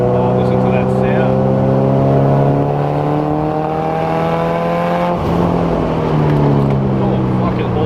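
A car nicknamed the Carrot Rocket Ship, on its first drive, revs up hard and accelerates, engine tone climbing steadily with a brief dip and gear change near the end, loud and close throughout with no talk.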